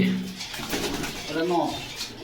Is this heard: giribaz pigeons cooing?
yes